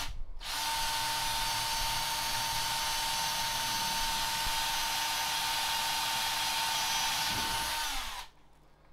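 Power drill boring a hole through a PC faceplate: one steady, loud whining run lasting about eight seconds that stops abruptly, with no voices.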